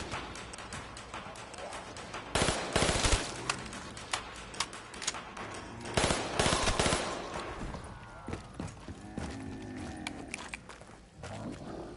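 RPK machine gun in Black Ops 3 Zombies rattles off in dense bursts, two louder sustained volleys amid scattered shots, with growling zombie noises and game effects around them.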